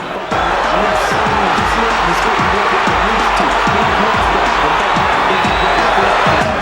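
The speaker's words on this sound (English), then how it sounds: "this crowd rises to its feet and looks for the first round knockout" A boxing arena crowd rises to its feet during a Roy Jones Jr. fight, a loud, dense, sustained roar of cheering that fills the space, with a commentator talking over it.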